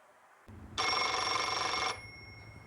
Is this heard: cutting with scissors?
no